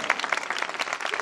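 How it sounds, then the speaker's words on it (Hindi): A short burst of close, brisk hand clapping from a church gathering, uneven claps in quick succession lasting about a second. "तो खुदावंद के नाम के लिए जोरदार तालियां"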